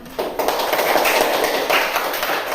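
Classroom applause for the first student group to present, a quick burst of many hands clapping at once that starts sharply and stays even and loud.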